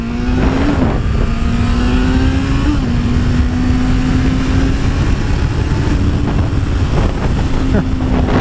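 A Honda CBR 650F motorcycle accelerates along an open road, its engine tone rising and dropping through gear changes beneath heavy wind rush.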